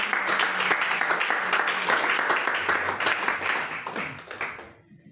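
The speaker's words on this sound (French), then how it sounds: "On peut acclamer le Seigneur." A church congregation applauding and cheering the Lord, with dense sustained clapping from many hands in a hall that gradually thins out and fades toward the end.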